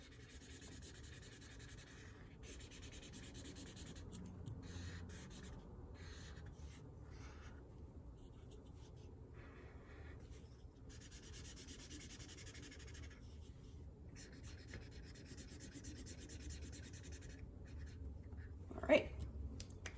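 A red marker or crayon rubs across paper while colouring in a triangle of a simple line-and-shape drawing, giving faint, steady scratchy strokes in short bursts over a quiet background.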